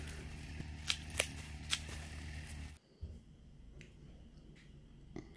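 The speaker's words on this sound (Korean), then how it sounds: "하나하나씩 다 전지가위로 다 잘라주는 작업을 합니다." Pruning shears snip through Hongsan garlic stalks by hand, giving sharp, crisp clicks at an uneven pace, close and quiet with a faint rustle between cuts.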